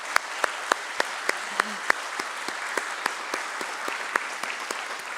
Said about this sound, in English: let's begin with an equally, and today so aptly when I say thunderous round of applause